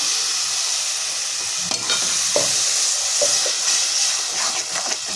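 Spinach paste hits a hot oil tempering in a pan and hisses into a steady loud sizzle, with scraping stirs breaking through now and then.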